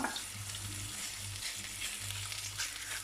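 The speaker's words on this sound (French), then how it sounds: "Là, notre viande commence à chauffer. On prend une spatule en bois." Meat heats and sizzles in a pan for a quick tagine while a wooden spatula pushes it around, a close, steady fry with soft scraping strokes and no voices.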